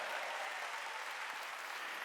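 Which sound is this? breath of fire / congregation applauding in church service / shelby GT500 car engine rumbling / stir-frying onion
congregation applauding in church service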